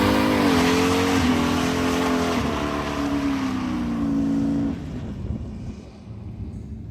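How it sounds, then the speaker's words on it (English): A car does a burnout at a roadside checkpoint, its engine screaming at high revs with tires squealing, loud and steady for several seconds before cutting off to quieter ambient noise. "Somebody's doing burnout."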